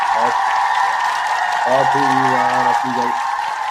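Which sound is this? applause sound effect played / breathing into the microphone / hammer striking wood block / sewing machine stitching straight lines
applause sound effect played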